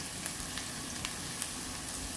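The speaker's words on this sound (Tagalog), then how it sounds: "Tapos yung ating garlic at ginger. Stir muna natin siya." Garlic and ginger being stir-fried in a pan, a steady, moderately loud sizzle with faint ticks of a utensil stirring, no talk.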